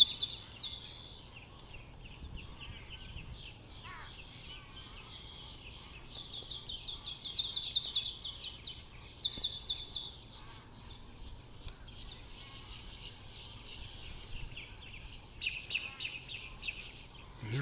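Birds chirp and call in scattered bursts at sunrise in Lakewood Ranch, the high tweets fairly faint against a low steady background hum with some insect-like buzzing.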